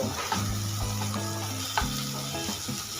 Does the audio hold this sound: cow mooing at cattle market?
no